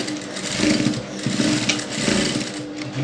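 A sewing machine runs a short seam on a fabric bow tie with a close, loud, even whirring hum that swells slightly in two pulses and then eases off near the end.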